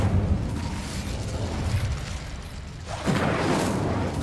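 A fire spell cast in the video game Hogwarts Legacy, a sudden whooshing burst of flame that flares up partway through over steady game ambience and keeps roaring loudly to the end.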